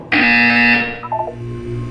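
A loud, harsh buzzer sounds once in the video game Portal 2, a piercing tone lasting just over half a second before dropping into quieter fading tones.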